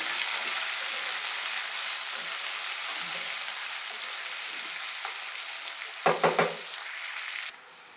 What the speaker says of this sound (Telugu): ఎండుమిరపకాయలు కూడా వేయిపోయండి పచ్చిమిరపకాయలు ఉల్లిపాయలు వేసేసుకొని ఇప్పుడు బాగా ఫ్రై చేస్తున్నామండి